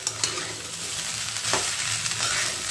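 Poha mixture is stirred and sautéed in a pan, with a soft continuous sizzle broken by a few scraping strokes of a spoon against the pan.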